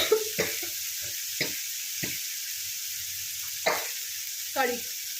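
Potatoes and capsicum softening in a pan for upma, a quiet steady sizzle punctuated by several distinct scraping stirs of a spatula at irregular intervals.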